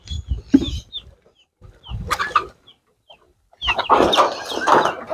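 Native chickens cluck in short, close bursts with pauses between, ending in a denser flurry of overlapping clucks and squawks from the flock.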